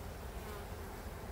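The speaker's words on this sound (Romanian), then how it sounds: "împânzit de albine care caută să aducă mâncărică la cuib" Honeybees fly around beehives, giving a faint, steady buzzing drone for a brief moment.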